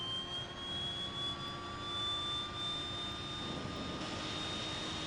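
The right turboprop engine of a DHC-6-300 Twin Otter spools up in the FSX flight simulator, a steady whining hum with tones slowly rising in pitch over a continuous roar.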